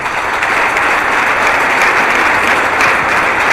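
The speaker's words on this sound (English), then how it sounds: "let's give them a big round of applause" A crowd at a provincial AA boys basketball championship claps loudly and steadily, with sustained, dense applause throughout.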